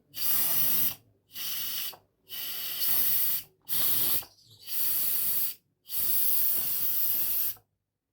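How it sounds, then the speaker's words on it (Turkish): Steam hisses out of an Arçelik Gurme Şef pressure cooker during manual release in six loud, sharp bursts, each lasting about a second, with short silent gaps between them. "Tenceremizin modu bitti. Havasını çıkartıyoruz elimizle."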